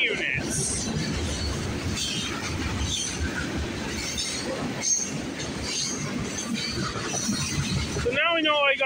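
A CN M399 freight train running with three Union Pacific and four ex-ATSF GP35U locomotives at night rumbles steadily past, with wheel noise and faint squeals, and a voice speaks over it.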